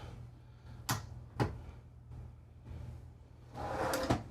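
Pull-out drawers beneath solid surface countertops in a Newmar New Aire 3547 motorhome slide and clack in several sharp, close bursts over a low steady hum.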